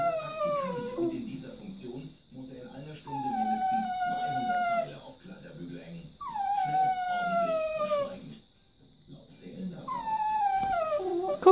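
A dog howls in four long, drawn-out wails, each rising then sliding downward, with short gaps of quiet between them; the howls are close and fairly loud.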